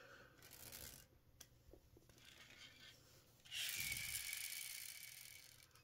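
A Hot Wheels Speeders 1/43 pull-back toy car's wind-up mechanism gives a faint rapid clicking ratchet, with a louder burst of whirring clicks near the end, heard close and alone.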